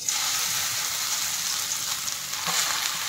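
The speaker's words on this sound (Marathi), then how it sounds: "तर आता मी तुपामध्ये गाजर घालून घेते।" Carrots frying in ghee in a pan, a loud continuous hiss and sizzle with light stirring scrapes, no voices.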